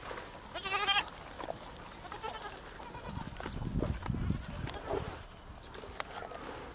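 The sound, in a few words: goats bleating on a farm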